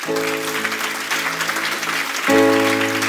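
A church congregation applauding during a French-language service: a dense, steady wash of clapping from many hands filling the room, with a loud sustained tone rising underneath toward the end.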